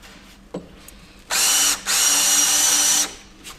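A power drill countersinks into Wonder Board cement backer board on a floor build, giving a brief burst and then a longer steady high whir with a short pause between them, loud and close.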